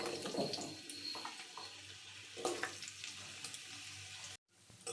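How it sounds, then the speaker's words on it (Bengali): Potatoes fry in hot oil with a soft, continuous sizzle and a few stirring bursts, then a brief dropout just before the end. "এই তেলের মধ্যে এবার আমি আলু ভেজে নেব।"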